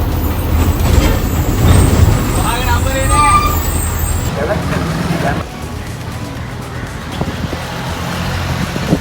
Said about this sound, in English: now it's time again to face the buses and head down to Galle